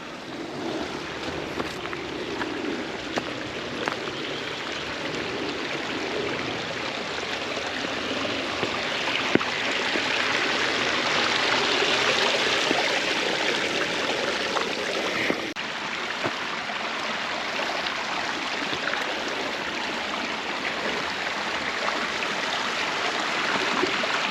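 A creek flows beside a bush trail near Boya Quarry and Greenmount Lookout outside Perth, giving a steady, even rush of water that holds throughout with no voices.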